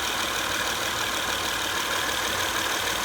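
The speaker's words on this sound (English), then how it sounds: "Idles pretty good." An Acura TL's J35Z6 3.5-liter V6 engine idles steadily, a close, even hum and hiss with no change in pitch, and no one talking.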